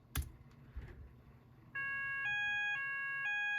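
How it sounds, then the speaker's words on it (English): After a few clicks and knocks, a fire alarm sounder base driven by an Arduino sounds its evacuate tone: a loud, steady electronic warble alternating between two pitches, close by. "So there is the sounder base activated."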